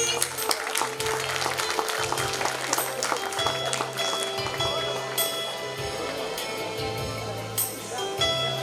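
Audience at a school annual function applauding for a fancy dress competition prize winner: steady, moderately loud clapping from a crowd, continuing throughout with music and background voices underneath.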